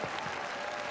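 Audience applause at a televised concert in the Kremlin for a music channel's birthday, greeting a singer as he takes the stage; dense, steady clapping fills the short moment without pause.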